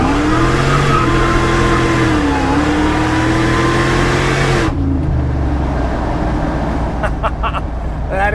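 A Whipple-supercharged 5.4-liter 2004 Ford Lightning pickup with 12,000 miles makes a loud, steady engine drone that rises in pitch while accelerating hard out of a turn, then drops into a lower cruising rumble halfway through.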